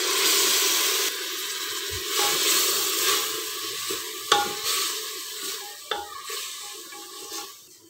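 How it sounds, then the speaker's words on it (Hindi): Ground masala spices sizzle and fry in a pan on low heat for a jackfruit curry, with steady close stirring scrapes and occasional sharp clinks of the spoon against the pan. "घट सेक दे उत्ते मसाले भुनने आ"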